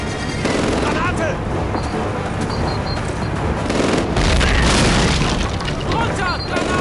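Grenade blast and gunfire in Call of Duty, a dense, continuous barrage of booms and rapid shots with a heavier burst around the middle, under shouted voices.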